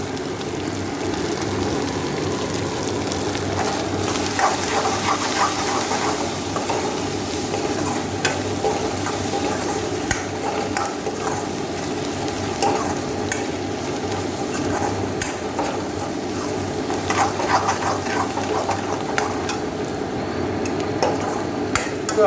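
Spices frying in a pan for an elephant foot yam and fish dish, with a steady sizzle and occasional stirring and scraping of a utensil throughout, no voices.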